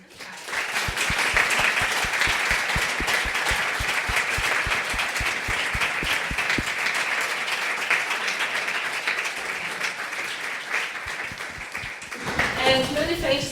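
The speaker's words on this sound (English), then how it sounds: "let's have another round of applause for our speakers, Chris and Kat" An audience gives a round of applause for two speakers at an indoor event, with a strong rhythmic clap beat through the first half that gives way to looser steady clapping, and a voice comes in at the end.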